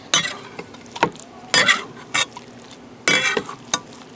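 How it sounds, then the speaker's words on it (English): Chopped garlic is mixed into soft shell turtle meat in a bowl, giving a series of short, separate wet squelches and clinks at irregular intervals, close by and with no talking. "All right, so we're gonna mix all the garlic with the meat here."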